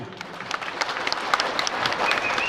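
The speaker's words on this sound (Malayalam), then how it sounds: "പ്രതിപക്ഷ നേതാവ് നമുക്കൊരു വലിയ കയ്യടിയൊക്കെ കൊടുക്കാം" Crowd applause for the opposition leader at a building dedication ceremony for a community centre, steady clapping from a seated audience that swells slightly toward the end.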